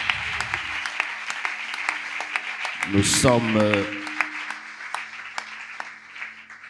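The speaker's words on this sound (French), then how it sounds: "Acclame très fort pour l'homme de Dieu qui est là devant." A church congregation claps hard for a man of God at the front of a French-language service. The dense, steady applause runs throughout, and a voice calls out briefly in the middle.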